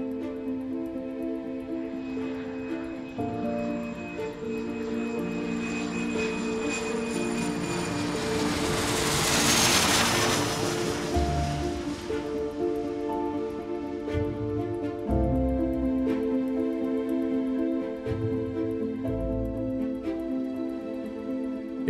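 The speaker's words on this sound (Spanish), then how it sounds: "el vuelo de Helios despega del Aeropuerto Internacional de Larnaca" A Helios Airways passenger jet takes off from Larnaca International Airport, its engine roar swelling to a broad peak midway, then receding, with a steady tonal whine lingering beneath.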